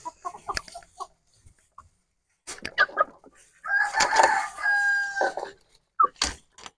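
Chickens cluck in short bursts, then a rooster crows loudly and close, followed by more scattered clucking; black chickens including a broody hen.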